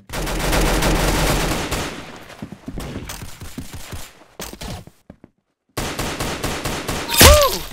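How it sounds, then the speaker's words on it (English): Rapid video-game gunfire in Roblox Arsenal, dense bursts of automatic shots filling most of the stretch, then a short gap and another volley with a rising electronic effect near the end; loud and close. "That's some beautiful shooting right there."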